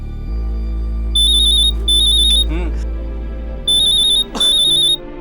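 A phone rings in repeated electronic trilling bursts over a steady low hum, two rings, a pause, then two more, with a brief voice in between.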